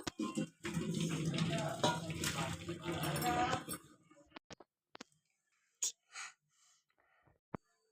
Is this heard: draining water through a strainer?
yes